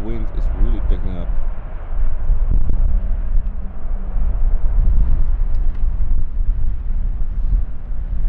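A plane makes a crosswind landing on runway 18R at Schiphol Airport. Its loud, rumbling engine roar is mixed with heavy wind buffeting the microphone, and someone talks briefly near the start.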